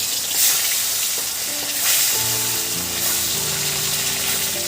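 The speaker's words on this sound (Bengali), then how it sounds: "সর্ষের তেল গরম হয়ে গিয়েছে এবার আমি ডিমগুলো ভেজে নেবো" Eggs frying in hot mustard oil in a pan, a steady close sizzle and crackle with a few soft bumps and faint tonal hums from the kitchen.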